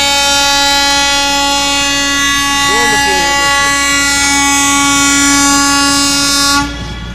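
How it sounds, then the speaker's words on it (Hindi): A railway electrification pole-lifting machine moves along the track near Pilibhit Junction, its loud, sustained horn blaring almost without a break for about six seconds over rail noise, while a voice is faintly audible underneath. "दोस्तों ये पोल्स लिफ्टिंग मशीन है और बरेली सिटी की दिशा में"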